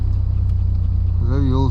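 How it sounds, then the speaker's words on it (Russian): A car engine runs close by with a loud, steady low rumble, the idle holding even throughout, and a voice cuts in over it near the end. "Завелся."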